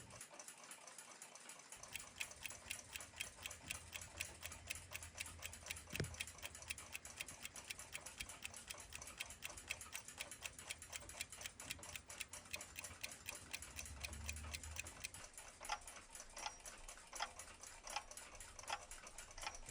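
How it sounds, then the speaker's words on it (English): An 1891 Waterbury 8-day alarm repeater, French-style carriage clock ticks in a quiet, even, rapid rhythm, heard close up with no other sounds for the whole stretch. "A nice Waterbury 8-day alarm repeater, French style carriage clock."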